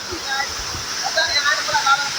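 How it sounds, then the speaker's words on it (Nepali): The Pedi Khola waterfall at Shantinagar-1 sends up a steady rushing wash of falling water, with people talking over it nearby. "हामी चाहिँ यो शान्तिनगर 1 पेदी खोलाको झरनामा आइसकेका छौँ"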